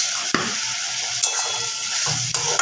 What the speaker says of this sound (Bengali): খুব ভালোভাবে মশলাটাকে কষে নেব